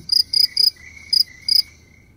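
Cricket chirping close and clear: five bright, pulsed trills in two short groups, three then two, over near silence with no voices.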